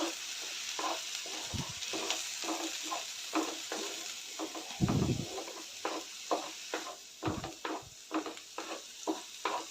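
Masala sautés in oil for a dhaba-style gravy with flat beans, a soft steady sizzle broken by rhythmic scraping stirs and a few louder knocks of the spoon against the pan.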